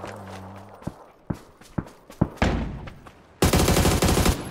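Enemy gunfire in a shooter game, a string of sharp separate shots and thuds with footsteps between them, then a dense, loud burst of rapid fire near the end.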